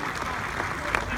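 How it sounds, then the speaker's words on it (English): A crowd gives brief applause at a Royal Engineers bridge-building demonstration on Armed Forces Day in Liverpool. The scattered clapping sits beneath a voice talking over it. "Just give a round of applause, that'll be great."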